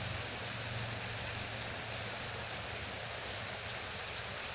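Steady rain falls outside as a dense, even hiss of drops on surfaces, with no pauses and no voices.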